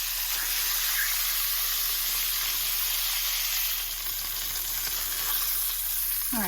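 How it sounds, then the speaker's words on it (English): Bratwurst sizzling steadily in hot butter in a pan, a constant loud frying hiss that runs unbroken throughout, with no talking over it. "I'm gonna place my bratwurst into the butter, and I'm gonna fry them until they're golden brown on all sides"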